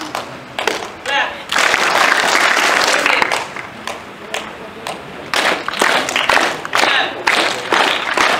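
Music workshop group clapping hands together in bursts, loud dense claps broken by brief quieter gaps, with an instructor's voice mixed in.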